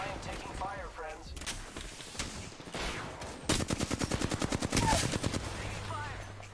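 Gunfire in the Apex Legends video game, with scattered shots early on, then a sharp rapid burst of automatic fire in the second half, moderately loud, alongside other game sounds.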